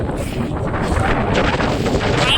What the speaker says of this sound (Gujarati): પવન આવે બહુ પવન